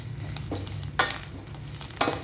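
Moringa leaves with salt stirred in a hot pan, a soft continuous sizzle broken by three sharp spatula scrapes against the pan, close and clear, no talk.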